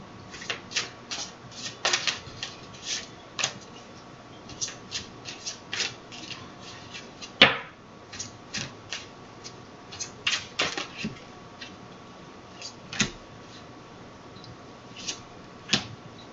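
Tarot cards shuffled and pulled from the deck, a run of soft papery slaps and riffles, close and moderately loud, with one sharper snap partway through and no voices.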